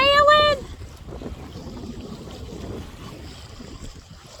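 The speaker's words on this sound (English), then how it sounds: "And look at this. We're sailing!" Sailboat moving under sail in light wind, with a steady soft rush of wind and water around the hull after a brief voice at the start.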